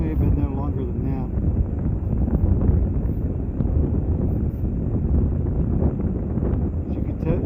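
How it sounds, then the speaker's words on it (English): Strong wind buffets the microphone on a mountain top in a constant, loud low rumble that never lets up, with a person talking underneath it. "it's quite windy up here"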